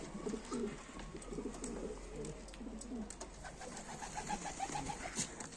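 Adana pigeons coo softly and steadily in the background of a rooftop loft outdoors, low murmuring calls repeating under light ambient noise.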